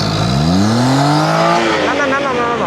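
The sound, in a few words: car engine running, carburetor problem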